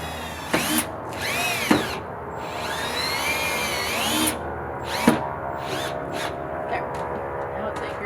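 A power drill drives short screws in a craft star build: several brief rising whines with spurts and pauses across the span, fairly close, with people talking quietly in between.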